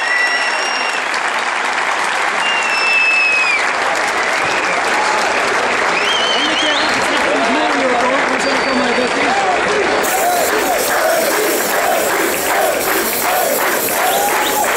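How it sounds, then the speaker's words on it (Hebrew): Sustained loud applause from an audience at a fight night event for the fighter David, dense clapping filling the whole stretch with some crowd noise and faint voices mixed in. "תנו לו כפיים"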